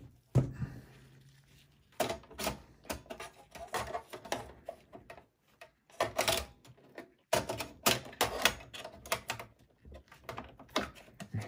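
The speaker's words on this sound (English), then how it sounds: "remove the PCI bracket here, bottom one. Install the video card." A video card being fitted into a Dell Optiplex 3090 desktop after its bottom PCI bracket is removed, heard as irregular bursts of close plastic and metal clicks, taps and rattles separated by brief quiet gaps.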